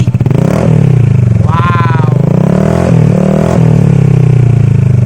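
A loud, raw Honda PCX160 scooter engine with a full-system muffler and no silencer idles roughly, then revs up sharply and settles back, close by, with a person briefly exclaiming.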